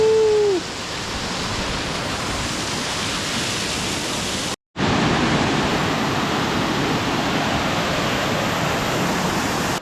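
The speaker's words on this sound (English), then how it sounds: "Alberta Falls is definitely pretty cool." Alberta Falls in Rocky Mountain National Park roars as a dense, steady rush of falling water close by. The flow continues through a brief cut midway, with no talk over it.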